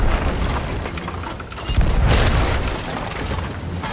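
Cannon fire in the pirate video game Sea of Thieves, heavy booming blasts over a dense rumbling background, loud and close, with a stronger boom near the middle.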